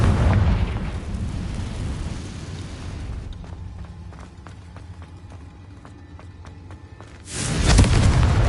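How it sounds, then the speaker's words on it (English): In Hogwarts Legacy, the Confringo fire-blast spell explodes with a heavy roaring blast that rumbles down, followed by a quieter stretch with light ticking, then another loud burst near the end. "Confringo."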